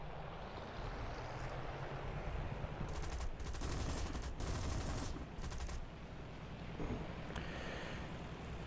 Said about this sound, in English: You notice I am using a lot of machine guns here